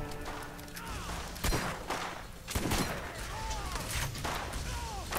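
Gunfire in the video game Borderlands, several loud sharp bursts and cracks over a busy, dense game soundscape, with a voice talking briefly.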